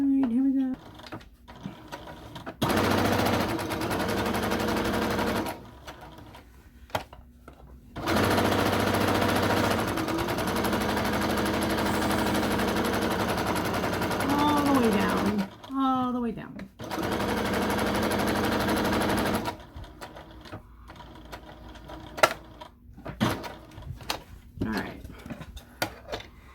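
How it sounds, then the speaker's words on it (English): A sewing machine back stitches fabric for a book sleeve, running in long steady buzzing stretches broken by pauses and handling noises, with a voice talking during the gaps. "Okay, so I am back stitching."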